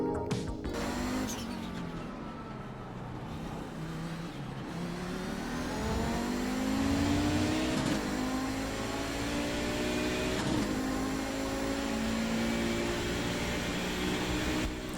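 Audi 90 GTO turbo engine in the iRacing video game, a loud continuous drone rising and falling through repeated revs and gear shifts, with no talk over it.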